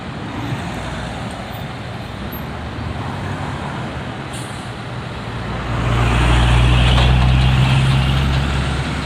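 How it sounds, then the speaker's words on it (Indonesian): A Ramayana bus rolls past on a busy road in Palembang, a heavy low engine rumble that grows louder over the second half amid continuous traffic noise, with no voices. "ada bis Ramayana."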